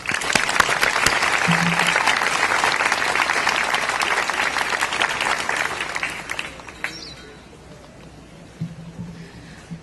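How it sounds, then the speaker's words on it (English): A commencement ceremony audience applauds in a dense, sustained wash of clapping that fades out toward the end, leaving a quieter hall. "Please give them a round of applause."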